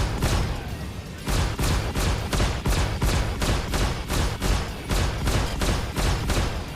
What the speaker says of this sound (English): Now the Gatling cannon has some serious range, but you can see the projectile velocity is pretty slow